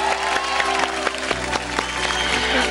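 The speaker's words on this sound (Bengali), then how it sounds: "এটা সবাই জোরে হাততালি নিশ্চয়ই হবে।" Studio audience clapping on the Zee Bangla cooking show Rannaghar, a loud, continuous patter of hands with some cheering and faint background music underneath.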